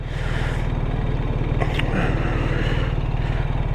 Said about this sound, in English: The 1250 doesn't rattle like this. The 1300 does